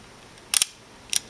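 Two crisp, close mechanical clicks from a Zeiss Ikon Ikonta folding camera shutter being released, about half a second apart, each a sharp double snap over quiet room tone.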